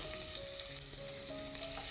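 Chopped onion frying in ghee gives a continuous, fairly loud sizzle that runs evenly with no voices over it.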